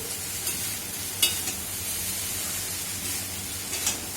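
Ghee added to rice in a pan, a continuous close frying hiss with scraping stirs and a couple of sharp utensil taps, no talk.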